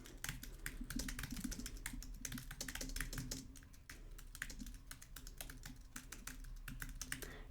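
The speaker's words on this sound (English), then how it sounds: "So the end user just types what they're experiencing." Someone types on a computer keyboard, a close, busy run of rapid key clicks with brief pauses, continuing steadily without any voices.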